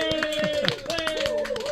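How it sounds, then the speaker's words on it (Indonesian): Audience clapping during an Indonesian panel discussion, brief bursts of claps sounding under and between a man's speech and a sustained tone, short and moderately loud. "tepuk tangan dulu dong"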